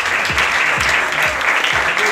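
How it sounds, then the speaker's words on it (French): An audience applauding at a casino anniversary celebration, dense steady clapping filling the room at full volume, with faint voices blended underneath. "on peut applaudir cette initiative"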